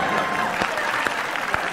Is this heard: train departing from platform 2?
no